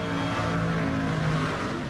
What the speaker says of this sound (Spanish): El sonido de un coche depende de la dirección en la que se desplace.